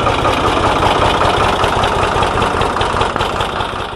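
An engine idles steadily and loudly close by, a dense, even rumble that holds without any break or change in rhythm, and no one speaks.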